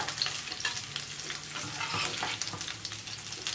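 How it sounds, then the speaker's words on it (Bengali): Rui fish pieces frying in hot oil in a pan for Bengali dahi rui, a steady close sizzle with light crackling and scattered pops, no talking. "মাছগুলো আমার ভাজা হয়ে গেছে"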